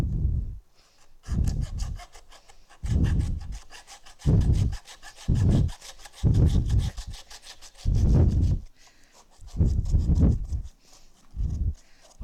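A handsaw cuts through pig ribs during a culinary arts class butchery breakdown, with about nine rhythmic, raspy back-and-forth strokes and short pauses between them.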